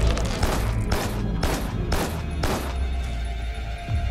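An enemy's gunfire in the horror game Carrion: a series of heavy, booming shots spaced about half a second apart over a low, rumbling background, loud and close.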